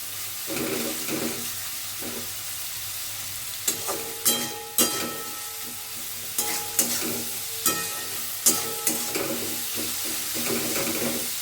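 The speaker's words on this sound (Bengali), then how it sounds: "আলুটা একটু ভাজা ভাজা হয়ে গেলে, জাস্ট একটু নরম হয়ে গেলে আমি বাঁধাকপিটা দিয়ে দেবো" Potatoes frying in a pan before cabbage is added, with a steady sizzle and repeated sharp scraping clicks of a utensil stirring them at close range, with no voices.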